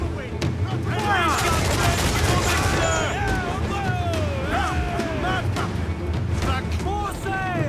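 Ship cannons boom repeatedly in a naval battle in Assassin's Creed IV: Black Flag, loud continuous barrages rumbling and crackling under a busy mix of shouting crew and game sounds from start to finish.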